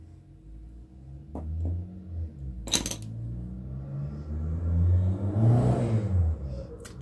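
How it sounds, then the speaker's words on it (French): A loud car revving nearby, with engine rumble swelling and rising in the second half, plus a few sharp clinks of small objects over a quieter background hum. "qui a une passion pour les voitures qui font du bruit"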